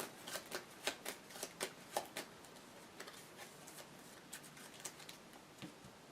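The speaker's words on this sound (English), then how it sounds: "Alright, shuffle this." A deck of cards for the Aeon's End board game being shuffled by hand: quick riffling bursts and sharp snaps in an irregular rhythm, fairly faint and close, with no talking over it.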